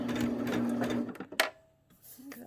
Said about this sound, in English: I turn it slightly and just sew right off the end.